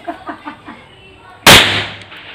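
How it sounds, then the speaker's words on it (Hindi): A single sharp, loud firecracker blast that booms and then rings out in a fading tail, preceded by a few faint rhythmic taps. "पटाखा बम दो बार फटता है, एक बार नीचे एक बार ऊपर"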